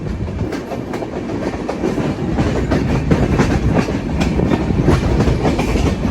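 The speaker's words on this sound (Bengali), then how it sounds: "তো আমরা বেরিয়ে যাচ্ছি পাকশি রেলওয়ে স্টেশন থেকে" Kapotaksha Express rolls out of Pakshi railway station with a steady, loud rumble and rhythmic clickety-clack of wheels over rail joints, heard from inside the moving train.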